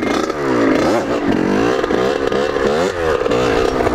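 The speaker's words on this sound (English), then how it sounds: "try to do a circle wheelie." A motorcycle engine revs hard and close during a circle wheelie attempt. The pitch rises and falls in repeated swells under loud, continuous engine noise, with no talking.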